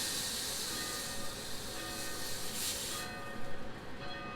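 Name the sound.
steak searing in a pan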